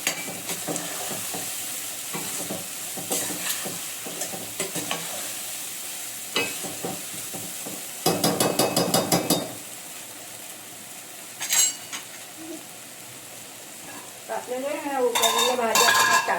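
Mixed vegetables sautéing with spice powder in a pan, a close steady sizzle broken by frequent scraping stirs and clinks of a spoon against the pan, with a burst of sharp rattling partway through.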